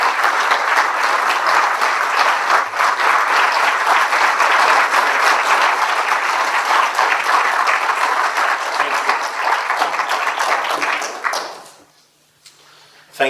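An audience applauds warmly to welcome Rabbi YY Jacobson onstage, a dense, steady clapping that fills the hall for about eleven seconds before fading quickly into near silence.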